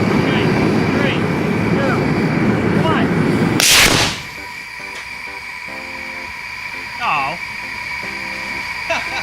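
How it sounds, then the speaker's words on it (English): A roaring rocket engine rumble cut off by a single sharp, loud blast as it explodes, followed by quieter clattering and a voice speaking. "Oh, the rocket engine exploded."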